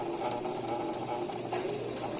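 Domestic sewing machine fitted with a Lanmax overlock-style presser foot, stitching a fabric edge finish, runs as a steady continuous whir with faint rhythmic ticking, close and even throughout.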